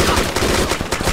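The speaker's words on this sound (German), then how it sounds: "Schuss!" Loud, close gunfire crackles through the DayZ survival game during a match, a dense burst of rapid shots lasting about a second with no talking.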